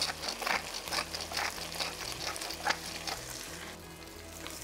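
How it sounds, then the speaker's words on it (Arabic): Rice and other ingredients frying together in a pan for Khaleeji chicken rice, a steady loud sizzle with scraping stirring strokes throughout, close up and with no talking. "وأقلب هالمكونات مع بعضها."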